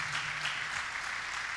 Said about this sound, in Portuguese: Vamos aplaudir o Senhor, igreja